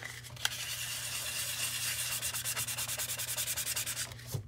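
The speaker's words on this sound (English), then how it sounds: "I'm going to sand it" Close, rhythmic back-and-forth rasping as a barcode on a junk journal is sanded, the strokes speeding into a fast even scrubbing pattern before stopping.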